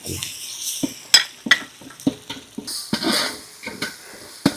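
Ground masala paste for fish biryani is stirred in a pot, with a spoon scraping and clinking against metal in irregular strokes over a low sizzle, close and moderately loud.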